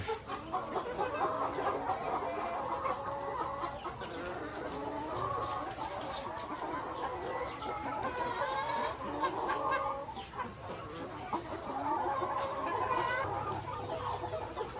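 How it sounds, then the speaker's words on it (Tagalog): Lohmann layer hens fill an egg farm layer building with dense, continuous clucking and cackling from many birds at once, a busy flock chorus with occasional louder calls and no talking. "Yan po, mga lowman po yan lahat. Lowman layer chicken."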